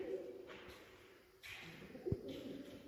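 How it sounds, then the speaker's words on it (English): Pigeons cooing inside an underground tunnel, a few soft, low, hollow coos spaced apart against faint echoing background hiss. "Pigeons."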